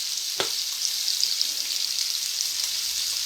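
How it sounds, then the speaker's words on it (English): Garlic and onions sautéing in bacon grease give off a steady, close sizzle and crackle with a brief stirring clatter near the start. "Now we're just going to saute this a little bit in this bacon grease"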